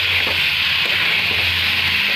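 Jackfruit and potato pieces frying in a pan as they are stirred, a steady loud sizzle with faint scraping of the spoon underneath.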